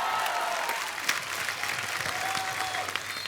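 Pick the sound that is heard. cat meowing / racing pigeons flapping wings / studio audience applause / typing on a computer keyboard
studio audience applause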